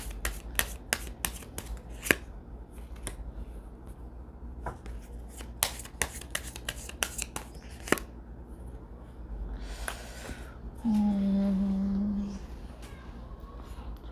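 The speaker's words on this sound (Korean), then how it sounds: "이어서 보조 카드 뽑아볼게요" Tarot cards being drawn and handled during a love reading, giving a series of sharp card snaps and flicks spread across the clip, fairly close and alone, followed by a brief low rubbing or scraping sound near the end.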